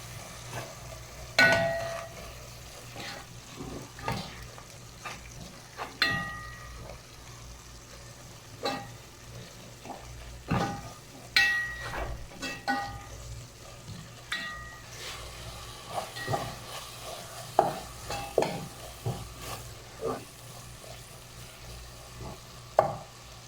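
A spoon stirs whole coriander and other spices in a frying pan for chicken gobi, giving scattered scraping clinks and soft knocks over a faint low sizzle, close and fairly quiet, with no talking.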